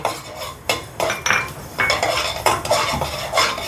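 Cumin and mustard seeds dry-roasting in a pan for South Indian garlic pickle, with a metal spoon stirring in repeated scraping clinks and light rattles, close and fairly loud, with no voices.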